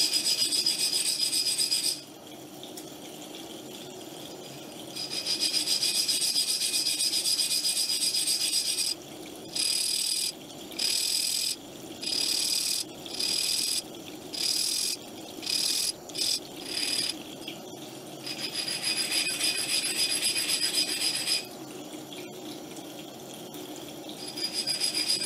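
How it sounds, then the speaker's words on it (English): Hand filing or sanding the edges of a glass beam splitter for a laser interferometer: a steady close rasping rub, broken midway into a run of short regular strokes before the continuous scraping resumes. "the edges can be chamfered by hand"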